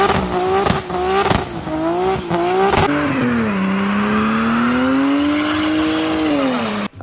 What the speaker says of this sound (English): So number 4 for me is the sound of the car